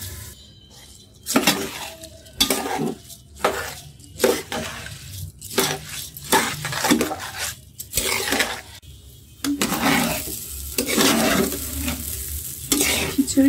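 Washed rice and mung dal are stirred and fried in a pan for khichuri, giving repeated bursts of scraping and sizzling with a clear rhythm and short quiet gaps between strokes, close and fairly loud.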